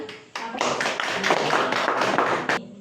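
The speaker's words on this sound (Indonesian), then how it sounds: "Tepuk tangan" Schoolchildren in a classroom clapping their hands together, a sudden loud burst of many close claps that continues in a dense, rhythmic patter before stopping abruptly.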